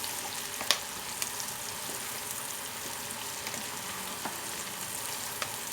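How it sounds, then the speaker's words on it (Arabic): Vegetables sauté in ghee in a pan, a soft, steady sizzle that runs throughout, broken by a few faint clicks of stirring. "وهبدا اشوح كده، اطلع ريحه الخضار بتاعي مع السمنه كده"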